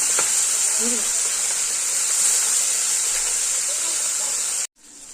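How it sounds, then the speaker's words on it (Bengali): Bhola fish frying in a pan, a loud, constant hissing sizzle that carries on unbroken before cutting off abruptly near the end. "ভোলা মাছটাকে মাছটাকে ভালো করে ভেজে নিতে হবে"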